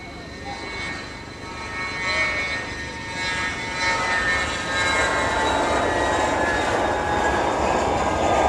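An Ethiopian Airlines airliner takes off from East Midlands Airport, its engine roar building in loudness with whining tones over several seconds, close and powerful, with a voice heard faintly at times.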